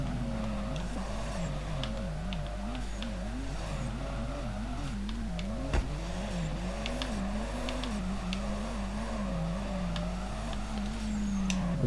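A BMW E36 drift car on track, its engine wavering up and down through revs with light throttle, a steady rough drone with a brief sharp knock midway, heard from inside or near the car.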